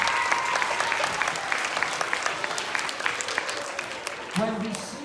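A school assembly audience of lower-school children claps for a teacher, a broad crackling wash of applause that holds steady and tapers slightly, with a brief voice surfacing near the end.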